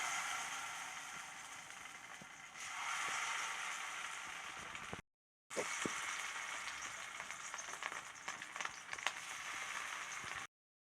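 Pieces of sankara fish frying in a small amount of oil, a steady close sizzle with a short break partway through, then crackling resumes with scattered pops and spatters.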